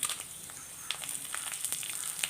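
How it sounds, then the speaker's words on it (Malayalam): Rice grains roast and pop in a hot pan, a quiet scatter of sharp crackles and ticks at an irregular rhythm over a soft sizzling hiss. "അരി പൊട്ടി വരുന്നുണ്ട് നല്ല ഒരു നമ്മുടെ വാങ്ങിക്കുന്ന പൊരി പോലെ പൊരിഞ്ഞ് വന്നിട്ടുണ്ട്"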